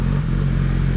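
Gen 3 Suzuki Hayabusa with a full-system Brox exhaust drones loudly and steadily up close for a brief moment, a smooth engine hum with no voices.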